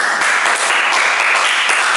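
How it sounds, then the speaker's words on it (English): Students in a classroom clapping together, a brief, full and even patter of many hands close by, steady from start to finish with no talk over it. "Give applause."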